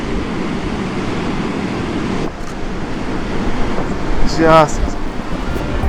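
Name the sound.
ocean waves hitting Lion Rock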